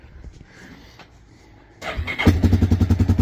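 A Yamaha Big Bear quad's engine cranks and catches after a quiet moment, then settles into a close, loud, rapidly pulsing idle.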